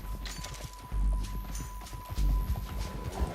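Horse hooves clip-clop in quick uneven beats in Red Dead Redemption 2, with heavy low thuds of running steps and faint whinnying, close and fairly loud, no talk over them.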